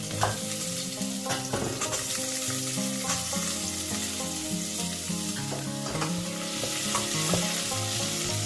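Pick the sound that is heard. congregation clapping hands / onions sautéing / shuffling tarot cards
onions sautéing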